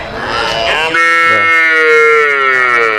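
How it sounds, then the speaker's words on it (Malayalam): A small calf at a cattle market calls with a loud, close, drawn-out bleating moo that rises and holds for a couple of seconds, preceded by a brief burst of background voices. "ചെറിയൊരു പശുക്കുട്ടി അല്ലേ ഇത്?"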